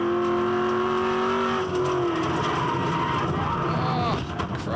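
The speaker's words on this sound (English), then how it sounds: "We've got the cars spinning, going everywhere." V8 ute race cars at Sandown, loud and close, with engines roaring and revving through a multi-car tangle; a steady roar with pitch sweeps, under a commentator's talk.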